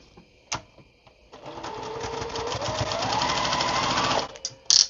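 A sewing machine stitches beginner-friendly quilt pieces in a steady run of close, rapid needle chatter lasting nearly three seconds, bracketed by a few small clicks before and after.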